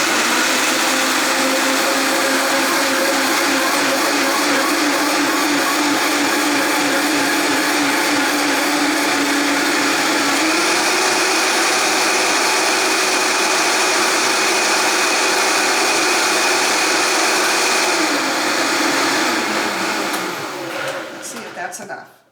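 Countertop blender whirring steadily as it purees a small batch of homemade salad dressing, a loud continuous motor drone with a slight pitch shift midway, winding down at the end.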